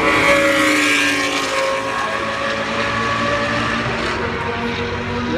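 Two cars, a Mitsubishi Evo and a BMW, drag racing at a roll racing event in Sydney, their engines a loud sustained roar with shifting tones from start to finish.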